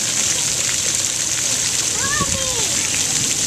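Splash fountains at Pease Park spray water in a loud, steady hiss that fills the whole stretch, while a voice briefly rises above it.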